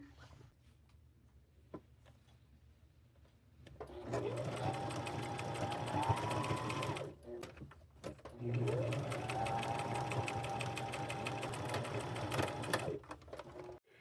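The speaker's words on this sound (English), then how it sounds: "and then I will pin all that down, and then we'll sew around here." Sewing machine stitching around handmade fabric appliques for bib overalls in two runs of about three and four seconds, each speeding up and then stopping, close and clear after a quiet start.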